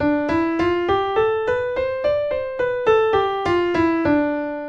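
A keyboard plays a D Dorian scale on the white notes, stepping steadily up and back down, one clear note at a time at an even pace, with no voices.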